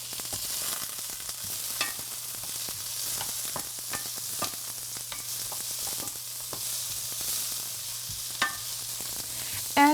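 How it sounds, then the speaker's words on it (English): Squash and onions sauté in a pan for an egg bake, with a steady soft sizzle and occasional scrapes and taps of a utensil stirring, no voices. "we're going to cook the squash along with the onions for about 3 or so minutes"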